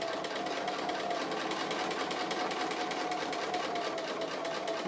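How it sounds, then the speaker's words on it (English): A sewing machine stitches appliqué onto fabric in a steady, continuous whir, close and alone without any talk. "A couple of stitches on top to lock it off, and we are done."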